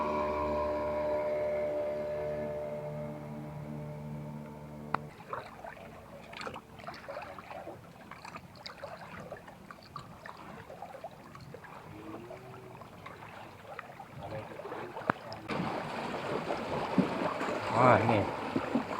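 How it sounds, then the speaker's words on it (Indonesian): Wake from a passing boat on the Melawi river slapping against a floating house, water splashing and sloshing in uneven surges that build louder toward the end, with people talking briefly. "kalau ada perahu lewat seperti inilah keadaannya"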